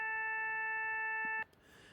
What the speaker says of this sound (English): a clarinet playing that same note will probably sound something like this